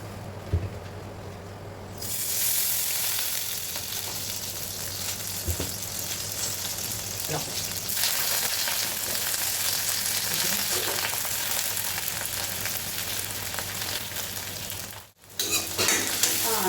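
Green chillies, curry leaves and garlic frying in oil, heard as a loud, steady sizzle that starts suddenly and continues, with a few faint clinks of stirring.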